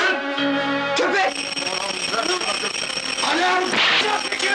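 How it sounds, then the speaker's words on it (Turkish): A shrill electronic alarm rings continuously and loudly, with shouting voices over it. "Alarm!"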